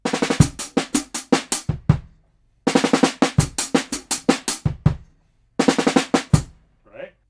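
A drum kit plays a groove, three repeated bursts of crisp rapid snare and tom strokes with kick hits, separated by short silences, close and alone.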